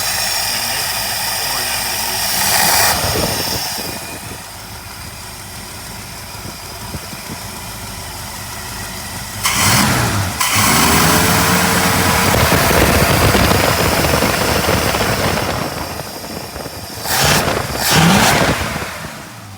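A 1964.5 Ford Mustang convertible engine running rough on a gummed-up carburetor, a loud steady idle with several bursts of revving and uneven surges.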